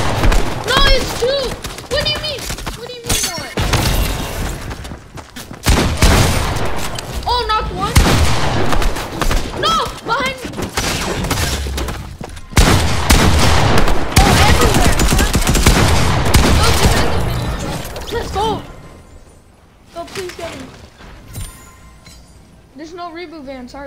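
Gunfire in a Fortnite arena match, rapid shots and bursts crackling through most of the stretch, loud and close, with players talking over the shooting.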